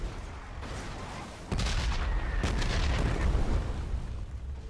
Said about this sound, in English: there's bombs everywhere